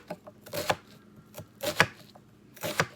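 A knife mincing food on a cutting board, sharp chopping knocks in irregular clustered bursts, close and fairly loud, with no talk.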